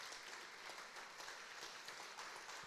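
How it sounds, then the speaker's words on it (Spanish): A church congregation applauds during a Spanish-language service, a dense, even wash of clapping that is fairly faint and continuous throughout. "Vamos a darle un aplauso más fuerte al Señor."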